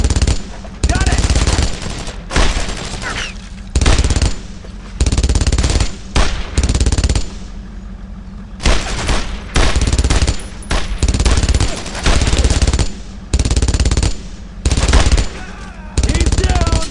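Rapid WWII firefights from Brothers in Arms: Road to Hill 30, with loud machine-gun bursts and rifle shots repeating almost nonstop in short clustered volleys, close and dominant throughout.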